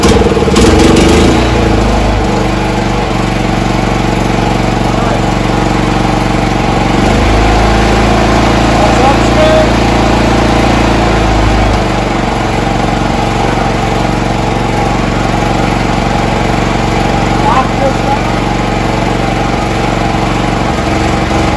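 A Champion 8750 watt open frame inverter generator engine runs loud and close, a steady droning hum after starting, with its pitch shifting a few times as the engine speed changes while it runs out of adjustment.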